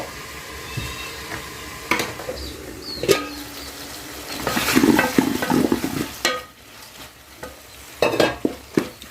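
Vegetables stirred in a pan for a chicken masala, with scraping and clattering strokes coming in bursts over a steady sizzle, loudest around the middle and near the end.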